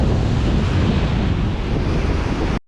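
Ocean waves breaking on a beach at outgoing tide while surf fishing, a loud continuous roar of surf mixed with wind buffeting the microphone, steady throughout before cutting off abruptly.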